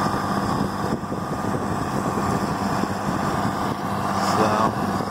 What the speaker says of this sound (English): Well, that's a nice looking Deere tractor there.